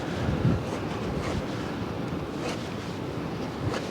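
Steady wind blowing outdoors at a windswept seaside, a constant broadband roar with gusty buffeting against the microphone and surf-like wash underneath, loud and continuous with no speech.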